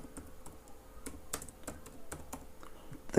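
Typing on a computer keyboard, with quick, uneven clicking keystrokes heard up close and alone for a few seconds.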